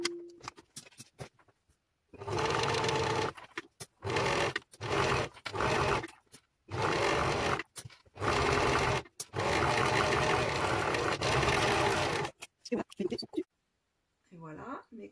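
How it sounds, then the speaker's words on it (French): Overlock serger stitching the side seams of a T-shirt in loud, close bursts of fast mechanical whirring, separated by short pauses, with faint handling noises between runs. "on va coudre à la surjeteuse chaque côté"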